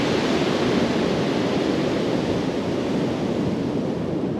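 Steady roar of ocean surf breaking on a beach in Portugal, continuous and loud throughout with heavy wind buffeting the microphone and no talking.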